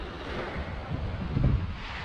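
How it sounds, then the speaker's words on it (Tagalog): Strong seaside wind at a former port in Sabang, heard as a steady rushing roar buffeting the microphone, with low gusts swelling near the middle and no talking. "lakas ang hangin"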